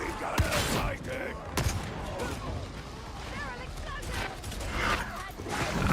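Shotgun blasts in the Warhammer 40K Darktide video game come in rapid, repeated bursts amid dense, noisy battle sounds, with a voice talking throughout.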